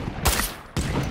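Gunfire in the co-op shooter Zombie Apocalypse comes as two sharp, close bursts about half a second apart, each a loud crack with a brief crackling tail, and no talk over them.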